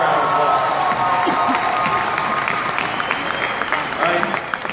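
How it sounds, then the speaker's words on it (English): A crowd applauds steadily, a dense patter of clapping that fades a little toward the end, with a few voices mixed in. "let's give her a round of applause"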